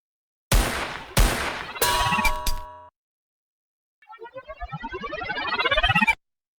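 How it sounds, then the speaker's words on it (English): Gunshot effects inside an electronic dubstep-style track: three sharp, loud blasts in quick succession with a ringing tail, then a rapid accelerating burst of sweeping synthetic pulses after a brief silence. "I like gunshot sound effects."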